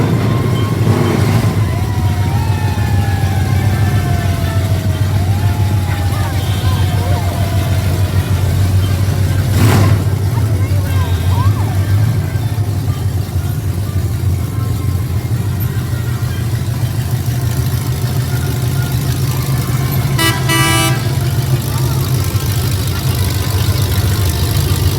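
Drag racing cars pass in a Fourth of July parade, their engines rumbling and idling with occasional revving swells, under a continuous crowd murmur and occasional sharp outdoor noises.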